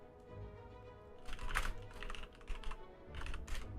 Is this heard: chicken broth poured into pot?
no